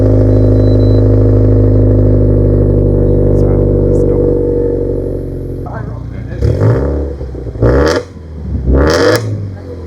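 A Subaru WRX STI with a quad-tip exhaust idles in a deep, steady rumble for several seconds, close and loud, then its note fades as a voice speaks over it.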